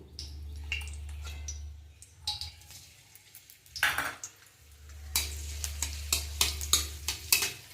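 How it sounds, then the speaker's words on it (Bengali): Raisins lightly fried in white oil in a pan for a vegetarian chhanar kalia, with a steady low sizzle, stirring scrapes and clinks of a utensil against the pan, close by. "কিশমিশগুলো হালকা করে ভেজে নেবো"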